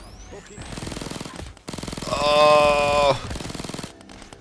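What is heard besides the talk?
gunfire from a video game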